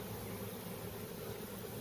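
Freshly installed package honeybees fanning at the hive, a steady soft buzzing hum that holds evenly throughout, faint and continuous with no voices.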